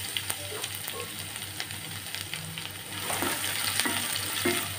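Ginger and crushed garlic sizzle steadily in a hot oiled pan, with soft scraping stirs and occasional spattering pops, close up and without talk.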